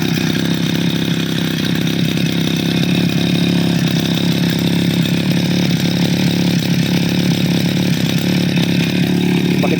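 A petrol grass cutter engine runs steadily and loudly at close range, a constant buzzing drone with no pauses, held at a stable throttle while its starting fault is being diagnosed.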